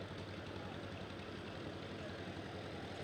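A parade of Farmall and IH tractors ridden by kids idles with a low, even engine rumble, steady and unbroken at moderate distance.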